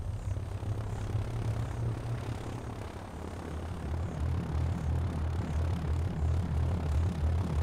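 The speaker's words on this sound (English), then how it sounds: "At first light, the spotter plane sets out again." A spotter plane flies overhead at first light, its steady propeller engine drone holding throughout at moderate level, with a low, constant hum that shifts slightly in pitch midway.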